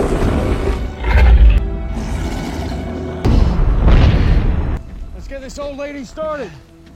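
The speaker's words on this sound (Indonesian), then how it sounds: "semua pasukan Valter menyaksikan sebuah ledakan dari pusat penelitian" A deep, rumbling boom bursts out as a research center explodes, then a second heavy blast follows, with dramatic music and a tonal melody rising near the end.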